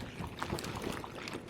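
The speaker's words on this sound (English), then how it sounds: "And here comes the wind too." Gusty wind blows outdoors near a waterfall, a rough, steady rushing roar buffeting the microphone throughout the brief moment.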